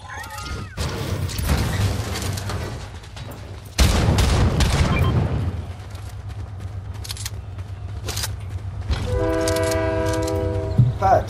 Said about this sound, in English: Oh my god, Pats, the train's here.